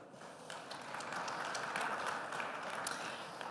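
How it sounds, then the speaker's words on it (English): An audience at a summit panel applauds in a steady, dense wash of clapping lasting a few seconds, moderately loud and without any speech over it. "Round of applause, please."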